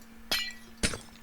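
Glass blocks shatter in Minecraft, two short bright crunching breaks about half a second apart, fairly quiet over a faint steady hum.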